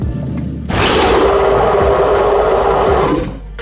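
A dinosaur call from the Dinosaur Simulator game, replayed: a loud, sustained roaring bellow that bursts in after a quieter lead-in, holds steady for over two seconds, then fades away.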